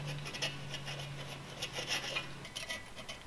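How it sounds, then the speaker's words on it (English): An old chisel scrapes an old gasket off a steel manway cover in short, rasping strokes that come in quick repeated bursts, fairly quiet and with no talk. "Start the process by removing the old gasket. Scrape with an old chisel."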